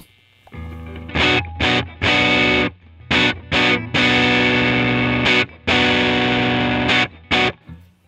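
Electric guitar played through a vintage EarthQuaker Devices effects pedal with no compression, giving distorted chords struck and cut off in short bursts, some held longer, loud and close with no talking.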